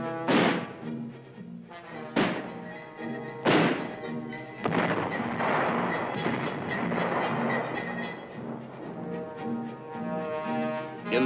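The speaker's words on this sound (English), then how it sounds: "Mortar teams are drilled in exercises to set up and to sight in, plot, and fire the big 81-millimeter U.S." U.S. 81-millimeter mortars fire during a training exercise: three sharp, heavy thumps arrive in steady succession, then a long, loud rumbling roar with a tonal drone underneath, and another thump near the end.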